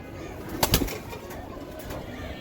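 Racing pigeons in a tall cage: a quick double flutter of wings stands out near the start, followed by a quieter rustling background with faint voices.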